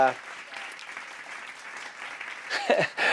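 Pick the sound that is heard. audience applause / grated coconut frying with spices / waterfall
audience applause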